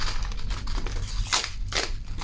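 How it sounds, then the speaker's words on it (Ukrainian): Scissors cut open a sealed packet of F1 melon seeds, making two or three crisp snipping crunches of plastic film over a low background hum, with no talk. "Зараз ми його розріжемо і покажемо, яке насіння всередині."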